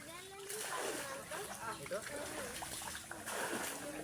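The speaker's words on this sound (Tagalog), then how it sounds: "pinagpatuloy ang paglilimas at nang sa ganun ay tuluyang mawala tubig" Floodwater is bailed out by hand in repeated splashes and sloshes, a couple of scoops tossed close by at an uneven pace, while a voice talks over it and children are heard faintly.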